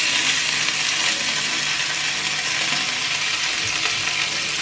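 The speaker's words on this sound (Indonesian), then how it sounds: "Saya panggang itu aja dulu." Chicken grills in a Teflon pan with a steady, close hiss of sizzling fat and juices that holds evenly from start to finish, with no voices.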